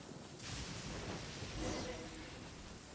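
Rain and thunder in Genshin Impact, a steady hiss of rainfall with two soft rumbling swells of thunder, fairly quiet, with a voice talking over it.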